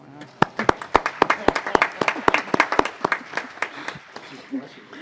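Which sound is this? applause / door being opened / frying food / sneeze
applause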